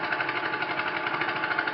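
A small radial engine idles steadily up close, a dense even chugging drone with a regular pulsing beat.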